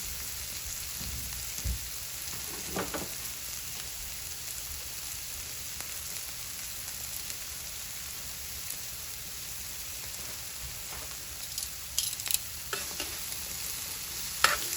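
Vegan taco filling sizzles steadily in a pan, a constant close hiss of frying with a few soft stirring clatters and no talk.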